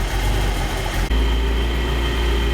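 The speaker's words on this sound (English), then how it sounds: "I'll let the engine warm up" A 1985 Ferrari Mondial QV engine idles steadily while warming up, a close, continuous low rumble with a brief dip before the idle settles again.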